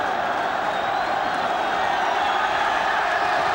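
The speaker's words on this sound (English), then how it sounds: "The crowd are giving them the sort of rapturous welcome at that end that every man in a blue shirt deserves" A stadium crowd at a Scotland v England match cheers after the Scottish victory, a dense, continuous roar of distant voices with no clear individual calls.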